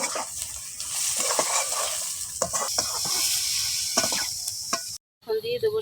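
Chopped onion, green chilli and garlic frying in hot oil in a pan, a loud close sizzle with spoon scrapes and knocks throughout, cutting off abruptly near the end before a brief burst of voice.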